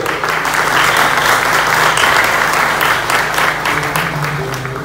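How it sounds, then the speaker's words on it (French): Steady applause from the audience at a diploma graduation ceremony, a full, even wash of many hands clapping throughout with a faint background hum. "Sous vos applaudissements, s'il vous plaît."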